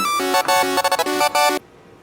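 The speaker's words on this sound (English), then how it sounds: "Well, it seems my telephone's ringing." A telephone rings with bright electronic tones in rapid pulsing bursts, loud and close, then cuts off abruptly into near silence.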